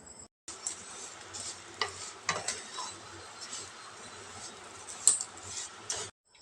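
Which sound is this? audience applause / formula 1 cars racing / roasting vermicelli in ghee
roasting vermicelli in ghee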